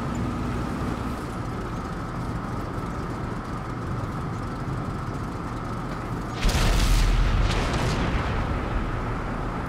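A heavy tank cannon fires once in World of Tanks on Xbox, a loud booming blast with a rumbling tail, preceded by a steady low engine drone and battle ambience.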